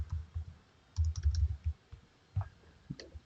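Keys typed on a computer keyboard while coding, giving soft irregular clicks in short bursts close to the mic, with quiet pauses between them.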